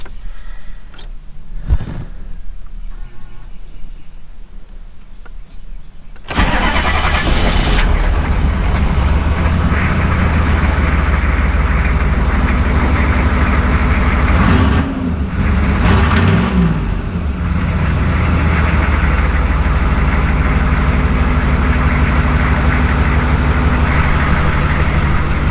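A 6.5L diesel pickup engine, recently checked for a pump-mounted injection driver (PMD) fault, cranks after a few quiet knocks and fires up, then settles into a loud, steady diesel idle close by with a brief revving dip midway.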